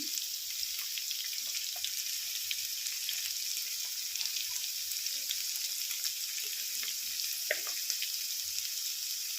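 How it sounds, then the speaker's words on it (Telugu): Ivy gourd (tindora) roasting in hot oil in a pan gives a steady, even sizzle with faint scattered crackles and light clinks throughout, no voices. "దొండకాయలని రోస్ట్ చేస్తున్నాను ఆయిల్లో"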